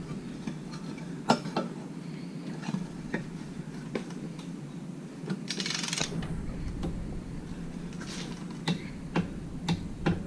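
A torque wrench set to 55 foot-pounds tightening on the lower unit of a Mercury 115hp Command Thrust outboard, soft ratcheting ticks and sharp metallic clicks scattered over low background noise.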